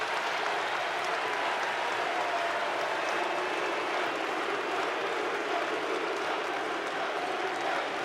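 A college basketball arena crowd roars and chants as Luka Bogovac enters the game, a steady, dense wall of crowd noise with no break throughout.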